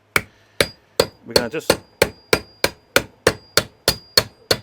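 A small hammer taps the housing of a cylinder lawnmower cartridge: about a dozen sharp metallic knocks at a steady, close pace. A voice speaks briefly partway through.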